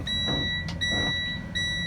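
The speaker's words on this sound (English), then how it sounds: "An alarm sounds from the instrument cluster." A high electronic warning chime from a Freightliner M2 truck's instrument cluster, triggered by the parking brake not being set with a door open, sounds in repeated bursts broken by short gaps, alone and fairly close with a low hum beneath.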